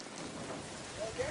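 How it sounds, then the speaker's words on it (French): Torrential rain hisses in a continuous, even wash, fairly faint and unbroken for the whole moment, with no voices over it. "il pleut à torrents pendant 1 mois."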